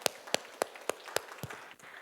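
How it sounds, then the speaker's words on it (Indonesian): A small congregation at a Catholic church service claps briefly, about six distinct, sharp claps in a loose rhythm that fade out quickly. "Tepuk tangan untuk kita semua."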